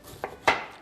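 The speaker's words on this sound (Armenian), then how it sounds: "Հիմա կարող ենք կտրատել" A kitchen knife cuts through radish on a board in two quick strokes, the second crisper and louder, close and clear with no talking.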